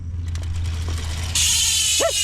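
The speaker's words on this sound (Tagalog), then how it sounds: "Ito nga yung tunog ng Speed 1 Armorer and MTB hubs kapag naka-free wheel." Rapid mechanical clicking of a freewheeling Speed 1 Armorer mountain bike hub, a fast ratcheting buzz that swells louder partway through, close up.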